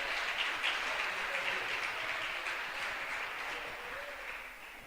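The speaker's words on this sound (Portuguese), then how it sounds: "Você pode aplaudir o nome do Senhor." A church congregation applauds with steady, dense clapping that fades slightly toward the end, sounding close and fairly loud throughout.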